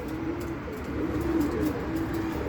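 Egyptian Ablaq pigeons with hazelnut-shell colouring coo softly and repeatedly, a low rolling call recurring every half second or so over a steady background hum with faint higher chirps.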